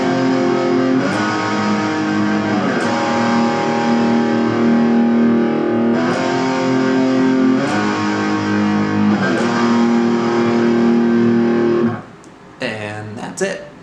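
Second electric guitar part for a song's chorus, strumming distorted whole-note chords that ring out steadily one after another, loud and alone, then cutting off near the end into a short burst of different noise.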